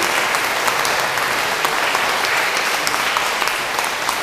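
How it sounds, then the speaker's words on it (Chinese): Audience applause fills the room at the close of a stage performance, a steady dense clapping from many hands held at an even level throughout with no talk over it. "我们大家也掌声感谢以上大家的表演。"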